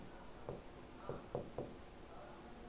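Pen or chalk writing on a board during a classroom lecture, four short faint scratchy strokes in quick succession against a quiet room hum, no talk.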